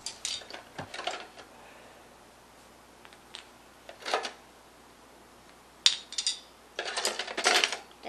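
Screws and broken parts rattling in a box, several bursts of metallic clinking and jangling with quiet gaps, close by, heaviest near the end.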